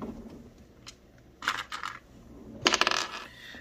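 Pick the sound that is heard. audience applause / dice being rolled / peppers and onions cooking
dice being rolled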